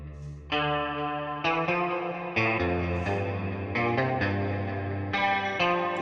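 An electric guitar from the Shreddage 3 Jupiter virtual instrument on its Dreamy Clean preset plays a clean, chorused, reverberant phrase of plucked notes and chords, moderately loud, each attack ringing out with soft echo.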